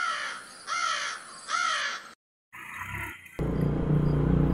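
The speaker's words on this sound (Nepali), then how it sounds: "माथि चराहरू उडिराखेछ आकाशमा" Crows caw loudly in a few drawn-out calls overhead, followed by a brief gap and then rougher outdoor noise and a steady rumble.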